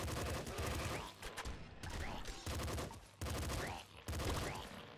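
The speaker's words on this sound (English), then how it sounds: "SMG's doing a mighty fine job so far." Rapid submachine gun bursts from the Nuclear Throne video game, loud and continuous over about five seconds, with brief gaps between volleys and other game effects mixed in.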